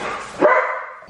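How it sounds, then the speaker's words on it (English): Dogs barking indoors, a single loud, close bark over a short burst of yapping. "The dogs are losing their minds."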